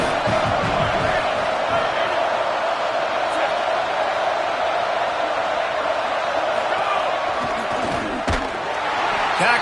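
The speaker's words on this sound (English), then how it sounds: "Decibels rising as the crowd gets behind this defense on 3rd down" Football stadium crowd roaring on a 3rd down defensive stand, a loud sustained wall of cheering and noise, with a few sharp thuds and a brief swell near the end.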